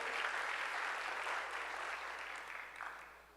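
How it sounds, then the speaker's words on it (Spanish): A church congregation claps after a sermon line, a fairly quiet, diffuse wash of applause that fades gradually over a few seconds with a brief flurry near the end. "eso sí que merece un aplauso porque el Señor lo hizo"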